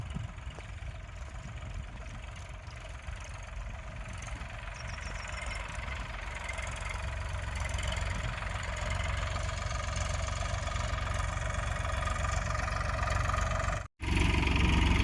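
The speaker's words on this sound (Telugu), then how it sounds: "ఇక ట్రాక్టర్ వస్తుంది ఫ్రెండ్స్." A farm tractor runs in a field, its engine a steady low diesel chug that grows gradually louder as it nears, ending with a brief cut before the engine noise resumes.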